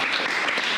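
Church congregation applauding, a dense, steady wash of many hands clapping with no voices over it.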